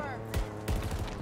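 Two loud sniper rifle shots ring out in the video game Halo Infinite, roughly a third of a second apart, each with a sharp crack and a booming low tail over game background sound.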